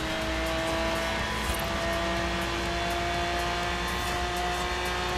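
Race cars in Forza Horizon 3, with a Nissan driven at speed: a loud, continuous high-revving engine drone with steady tonal whine throughout, no talk over it.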